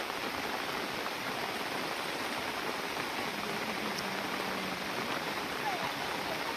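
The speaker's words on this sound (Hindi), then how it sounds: "और जोर से पानी आ रहा है।" Water runs hard after heavy rain in a village, a dense, steady rushing wash at close range that never lets up, with no clear talk above it.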